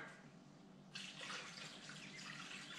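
Water poured into an EcoFlow Glacier ice maker, a steady broadband pouring rush that starts abruptly about a second in and continues loudly to the end, following a faint hiss.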